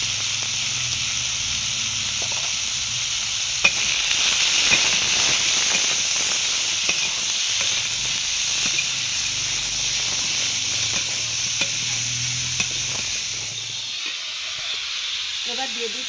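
Mixed winter vegetables frying in a pan: a continuous close hiss and sizzle fills the whole stretch, with occasional light scraping ticks from stirring, easing off near the end.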